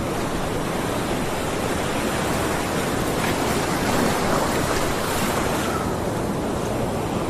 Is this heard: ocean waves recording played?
yes